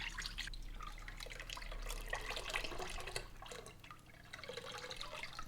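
Water is poured off soaking sea moss past folded foil into a container while making sea moss gel, a faint continuous trickle with soft splashing and drips, close by and without talk.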